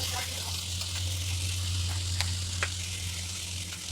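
Soy sauce splashing into a hot pan of sizzling gravy Manchurian, a steady bright hiss throughout with a few sharper crackles and a low background hum.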